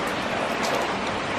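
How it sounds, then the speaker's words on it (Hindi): Steady rain falls on a morning in Pattaya city, Thailand, making a dense, even hiss with no breaks and no voices. "बारिश का सिलसिला ही जारी है, आज त्रीजा डे है, मुसलसल बारिश आती पी है"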